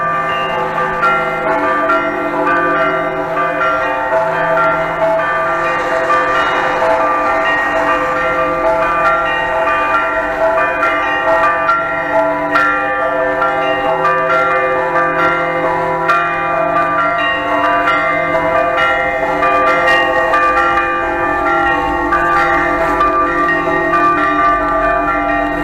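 Church bells of the Transfiguration Church at an old fortress peal continuously, several tones overlapping in a rich, sustained ringing that carries loud and unbroken throughout, with no voices.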